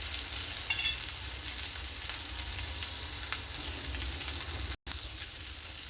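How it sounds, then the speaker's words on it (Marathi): Vegetables sautéing with turmeric in a pan, a continuous dense sizzle and crackle at steady loudness, with a brief cut near the end. "हळद टाकून आपण या परतून घेणार आहोत."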